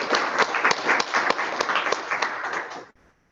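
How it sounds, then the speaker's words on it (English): A small workshop audience claps for a few seconds after a talk, individual claps fairly close and distinct, then stopping abruptly. "Let's just give a round of applause"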